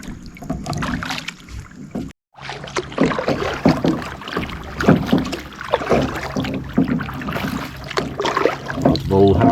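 Kayak paddle strokes and water splashing on a Florida spring run, steady and close, with wind buffeting the microphone and a brief dropout early on.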